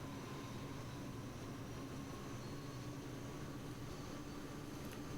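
A Lockheed P-3 Orion turboprop in Microsoft Flight Simulator 2020 roars continuously during its takeoff roll, a dense, even engine drone with a faint tonal whine and no voices.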